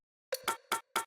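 A tech house percussion loop programmed in a drum rack: four short, bright, clicky hits in a quick, slightly uneven rhythm, close and dry, with no voices.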